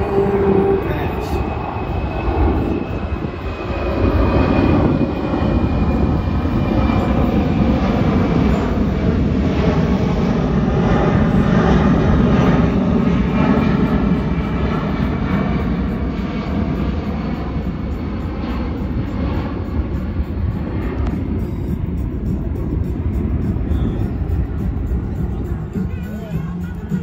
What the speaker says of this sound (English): you hear and feel the weight of this airplane right now